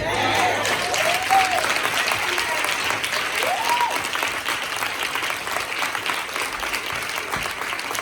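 A church congregation at a Black History program applauds in honour of Dr. Martin Luther King, a broad, sustained round of clapping with a few voices and brief tonal sounds rising over it.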